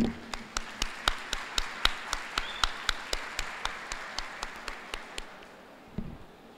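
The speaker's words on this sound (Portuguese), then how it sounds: "gostaria de dar uma salva de palmas a todos vocês" Applause at a lecture comes through as a steady, evenly spaced series of about two dozen sharp claps, close and fairly quiet, with no crowd wash around them.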